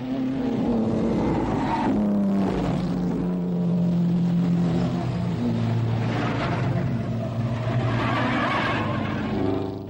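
Alfa Romeo P3 Grand Prix racing cars from 1934 roar past in a continuous loud drone whose pitch rises and falls as the engines rev, with no voices.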